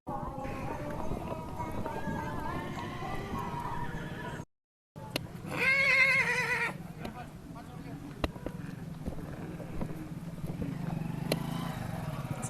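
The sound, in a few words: horse neighing at the Pushkar cattle fair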